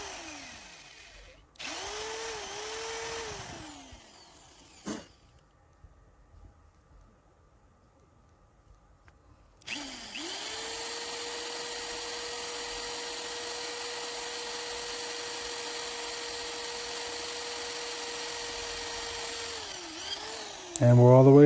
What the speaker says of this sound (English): Now you can start drilling where the new idle screw is going to be.